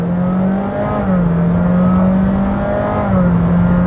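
A 2023 Honda Jazz e:HEV RS hybrid accelerates hard from inside the cabin, its engine droning loudly and steadily with a slight dip and rise in pitch like a simulated shift.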